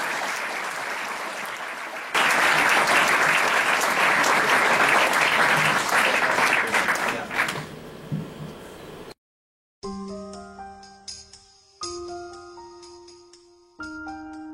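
A crowd applauds the 2013 Volunteer of the Year award winner, swelling loudly for several seconds before fading out, then followed by chiming electronic tones.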